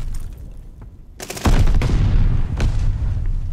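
A loud grenade blast in the shooter Vanguard hits after a quieter stretch of distant gunfire, followed by a sustained rumbling roar and a second burst.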